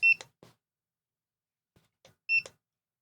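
A barcode scanner chirping as a library book is checked in: two crisp electronic beeps about two seconds apart, each followed by faint handling clicks, in an otherwise quiet room.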